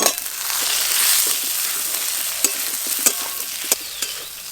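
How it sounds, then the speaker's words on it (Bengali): A spice masala with raw mango is stir-fried in a pan for a fish curry, giving a steady close sizzle with sharp scrapes and clinks of the spatula at intervals and no talking. "এবার কাঁচা আম দিয়ে আর একটু কষে নেবো।"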